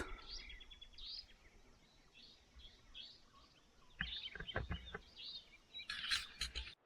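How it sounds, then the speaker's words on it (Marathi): Birds chirping at dusk in the countryside near Koyna, with repeated faint high tweets scattered across the clip and a louder burst of calls near the end over quiet background. "छान असा पक्ष्यांचा किलबिलाट"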